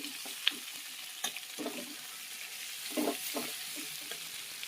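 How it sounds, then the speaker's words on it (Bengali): Boiled potatoes frying lightly in oil for a green aloo dum, a steady soft sizzle with scattered crackles and a few spoon stirs, close by and moderately quiet, with no talking. "এবার একটু তেলে একটু ভেজে নেব হালকা করে।"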